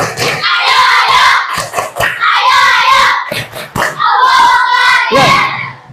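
Schoolchildren performing a tepuk semangat spirit clap in a classroom, bursts of rhythmic group clapping and loud chanted children's voices alternating in short phrases, with brief pauses between sections.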